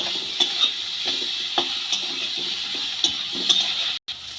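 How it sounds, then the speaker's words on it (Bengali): Potatoes coated in cumin and chili powder are fried and stirred in a pan, with a constant low sizzle and scattered clinks and scrapes of the spoon against the pan. "সব রকমের মশলা দিয়ে আলুটাকে খুব ভালো করে আমি কষিয়ে নেব"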